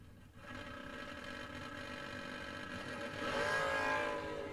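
Drag racing cars, a Cavalier and a dragster, roar off the line at a drag strip, a steady droning engine note that swells and climbs in pitch toward the end, heard from a distance.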